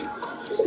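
A 12-year-old champion racing pigeon gives one brief, low throaty coo close by.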